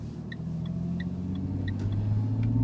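A synthetic Renault Clio V6 engine sound played through the speakers inside a moving Renault Clio gives a steady low rumble that swells slightly, with faint chirps on top and no talk.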